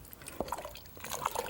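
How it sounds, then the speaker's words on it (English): Water poured into a pot of Mexican bean soup, a short run of drips and splashy liquid sounds at moderate level. "So I'm gonna add probably a cup or so of water."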